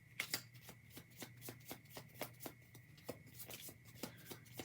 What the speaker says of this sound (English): focus on your question while I shuffle